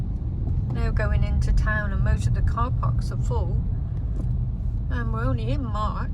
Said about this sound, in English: there's a lot of traffic about today